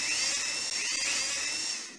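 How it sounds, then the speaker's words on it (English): A toy drill in the 1998 PC game Tonka Workshop bores a hole for a robot's head, giving a loud, steady high-pitched whine that holds for about two seconds with little change before easing off. "use your drill to make a hole for the robot's head."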